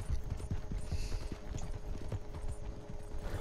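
A horse gallops in Red Dead Redemption 2, its hooves clip-clopping in a quick, steady rhythm of close, loud thuds that run throughout, with faint game sounds underneath.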